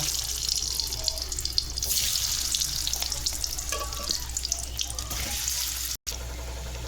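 Small boiled potatoes coated with turmeric and salt frying in oil for aloo dum, a steady, dense sizzle with scattered crackles and stirring, briefly cut out near the end.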